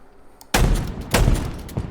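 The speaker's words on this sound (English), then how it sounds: "One of 2 shotguns in the game. Full auto, although for being full auto, it doesn't really shoot that fast." The Bulldog full-auto shotgun in Halo Infinite fires two loud, close blasts about half a second apart, each with a booming tail.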